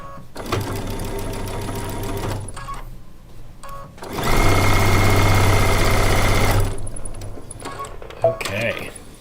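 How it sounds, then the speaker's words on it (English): A home sewing machine stitches rows of quilt pieces together in two loud, steady whirring runs with a pause between, close up, followed by a few clicks and handling noises. "let's sew these 3 rows together now"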